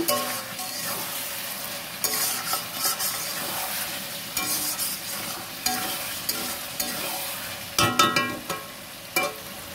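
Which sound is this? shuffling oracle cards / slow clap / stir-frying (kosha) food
stir-frying (kosha) food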